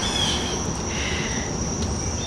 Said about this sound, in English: I hope you can hear the crickets.